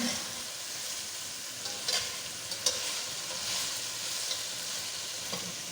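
Cumin seeds roasting in a pan for mutton yakhni pulao, giving a steady fine sizzle and crackle with a few sharper pops and light stirring scrapes throughout, fairly quiet and close, with no talking.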